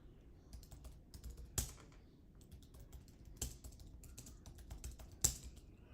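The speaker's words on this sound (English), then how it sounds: "Why am I typing crazy?" Quiet, close clicking of typing on a computer keyboard, irregular bursts of keystrokes with a few sharper, louder taps standing out.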